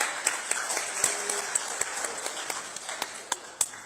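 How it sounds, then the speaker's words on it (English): Scattered clapping from a small group at a press conference for the World Creole Music Festival, sparse and uneven with a few sharper claps standing out, fairly quiet and brief. "Round of applause."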